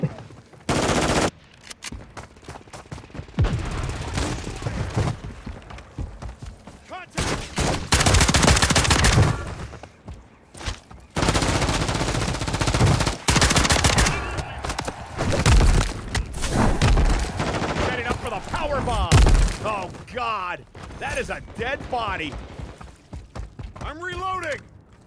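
A Broadside shotgun fires in a chaotic online shooter match, with heavy booming blasts in uneven bursts and some gaps, while players talk over the gunfire.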